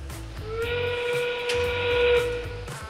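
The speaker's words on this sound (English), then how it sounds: "The whistle means there's 30 seconds left in the match." A loud steam whistle at a 2022 Utah Regional robotics match blows one long sustained tone, signaling 30 seconds left, sounding for about two seconds over a rumbling, noisy background.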